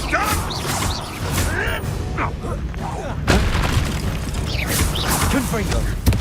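A Confringo blast-curse explosion in Hogwarts Legacy, a loud booming crash that bursts out midway through dense, chaotic combat noise, with voices calling out over the fight.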